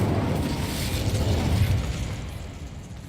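Fiery Incendio spell cast in Hogwarts Legacy, a loud rumbling burst of flame that swells for about two seconds and then fades, with no talking.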